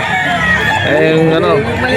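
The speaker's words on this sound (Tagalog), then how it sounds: "Ang gwapo ng manok." A young bullstag rooster at the Bocaue auction market in the Philippines lets out a loud, close crow while people talk nearby in the busy market.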